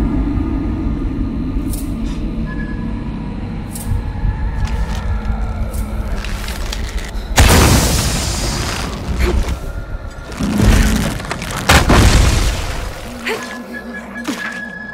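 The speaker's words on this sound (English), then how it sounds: "To create an explosion." An explosion in the video game Shadow of the Tomb Raider booms out in a loud, sudden broadband blast that rumbles and fades, followed by further heavy crashes against quiet ambient game sound.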